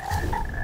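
Frogs croak in the video game Mortal Shell, two close, loud, buzzing croaks in quick succession, with a steady low rumble of game ambience beneath and no voices.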